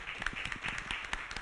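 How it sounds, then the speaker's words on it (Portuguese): Scattered hand clapping from a small group at a university council meeting, moderately close with a few sharper claps over a soft murmur of voices, steady across the short burst. "Uma salva de palmas para a Andréia."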